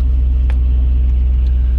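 A Dodge Challenger's engine rumbles at idle with a deep, loud, throbbing low drone that stays steady throughout, close up and without speech.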